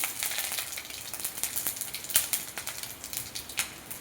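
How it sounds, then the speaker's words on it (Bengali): Dried red chillies crackle and sizzle in hot oil for a Bengali fish tempering, a steady bright frying hiss with sharp pops throughout, close and continuous with no talking. "এখানে ফোড়ন দিয়ে দিলাম।"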